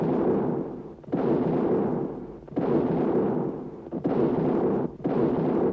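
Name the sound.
cannon fire of a 21-gun salute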